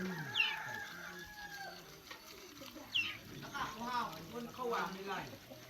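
Chickens cluck and a rooster crows several times at a modest distance, mixed with other fowl noises and a person talking throughout.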